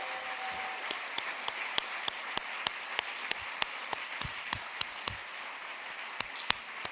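Audience applause for honorees at an awards event, a thin, sparse round of clapping with distinct individual claps spaced out over several seconds, moderately faint.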